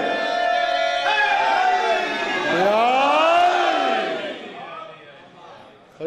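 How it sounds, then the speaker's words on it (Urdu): Crowd at a religious gathering shouting a chanted reply to a slogan call, voices rising together in a loud swelling cry that then fades away. "اب ایک مرتبہ نعرہ لگائیں، جو منہ بند کر کے جواب دینے کے عادی ہیں وہ منہ کھول کے نعرے کا جواب دیں"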